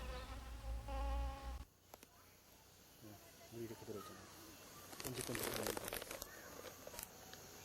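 Flies buzz around a foul-smelling, moisture-rich stinkhorn mushroom in a rainy-season forest, with faint intermittent buzzing over a low background hum and a louder stretch toward the end.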